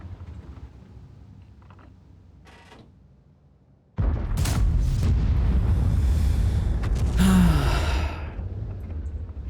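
A World of Tanks tank cannon fires with a sudden loud boom, followed by a rumbling, reverberant tail and a later whining, clanking burst, all close with no talking.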